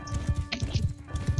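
A horse gallops in the video game Mount & Blade II: Bannerlord, its hooves pounding out rapid, close, rhythmic clip-clop beats over a faint steady hum.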